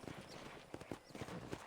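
Hooves of a ridden horse clop in a few quick uneven strikes on a ranch in a video game, moderately close with faint background ambience.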